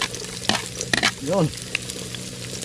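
Onions sizzling in a hot pan during a night-time home cooking session, a steady close hiss of frying under a few clattering stirs, with a short spoken word partway through.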